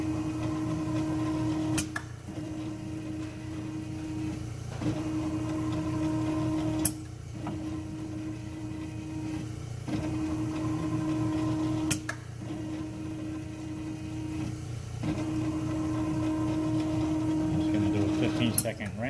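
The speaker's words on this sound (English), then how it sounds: "Now it's going to do its DI wash." An Ultron UH117 machine runs its DI water wash cycle, a steady mechanical hum with a sustained tonal whine, broken every few seconds by brief sharp clicks as the cycle steps.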